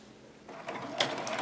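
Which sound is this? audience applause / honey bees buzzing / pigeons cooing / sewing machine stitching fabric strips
sewing machine stitching fabric strips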